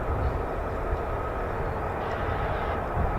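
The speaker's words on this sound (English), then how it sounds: "F-35As." US Air Force F-35A fighter jets taxiing at RAF Lakenheath, a continuous low engine rumble and roar held at a steady, fairly distant level without pause.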